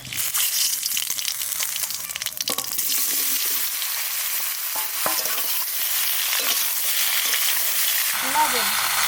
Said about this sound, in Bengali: তরকারি করছি তেল দিয়ে দিচ্ছি কড়াইটা আমার আজকে পুড়ে গেল তেজপাতা জিরে